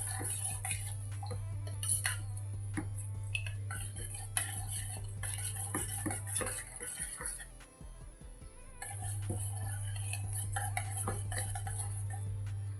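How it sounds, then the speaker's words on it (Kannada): A spoon stirring a homemade hair oil mixture in a double-boiler setup, giving repeated light clinks and scrapes against the container over a steady low hum, with a voice talking now and then. "ಇದೆಲ್ಲ ಹಾಕ್ಕೊಂಡ್ಮೇಲೆ ನಾವು ಸ್ಪೂನಲ್ಲಿ ಸ್ವಲ್ಪ ಚೆನ್ನಾಗಿ ಮಿಕ್ಸ್ ಮಾಡ್ಕೋಬೇಕಾಗುತ್ತೆ."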